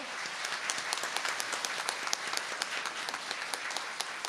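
A church congregation applauds during a Christmas Day service, a sustained even wash of clapping with scattered sharper hand claps, moderately distant and without voices.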